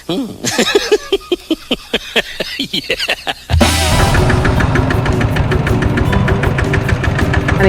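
A Thai e-taek farm tractor engine chugs in slow, distinct knocking beats, then revs into a loud, dense, continuous rattling drone from close by, with voices talking over it.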